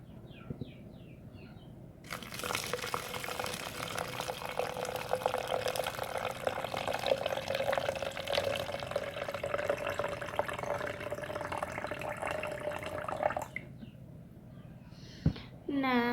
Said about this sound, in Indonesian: kemudian kita tambahkan air hingga mencapai